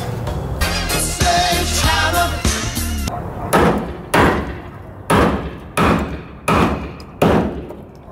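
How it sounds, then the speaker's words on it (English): A sledgehammer pounds on a VW Type 3 car body, landing a flurry of heavy metallic blows at first and then about six separate, evenly spaced clanging strikes that ring out loud and close. "Sledgehammer."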